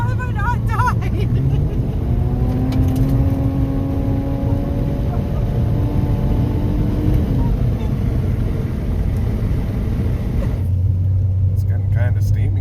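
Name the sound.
car with major exhaust leak rumbling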